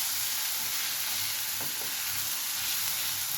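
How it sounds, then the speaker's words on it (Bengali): Turmeric powder being stirred and fried for ghugni, a steady close sizzle of frying with a couple of brief scraping stir strokes through the middle, no talking. "দিয়ে দিলাম হলুদের গুঁড়োটা, দিয়ে এবার এটাকে আর একটু নেড়ে ভাজা করি"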